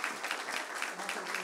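An audience at an evening talk applauds an author, a dense, even patter of clapping heard close and sustained across the short moment.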